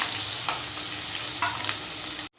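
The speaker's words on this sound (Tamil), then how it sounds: "பெரிய வெங்காயம் பொடிசாக நறுக்குனது ஒரு மூணு பச்சை மிளகாய் ஒரு மூணு போட்டு நல்லா வதக்கிக்கலாம்" Chopped onions and green chillies fry in a hot pan with a constant crackling sizzle and a couple of stirring scrapes, before cutting off abruptly.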